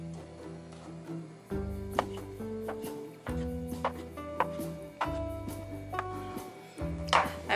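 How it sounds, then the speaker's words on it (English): A knife slicing tofu into thick pieces for Korean braised tofu, with several crisp chops striking the board in an irregular rhythm over light background music. "Cutting tofu, maybe just About that thick there"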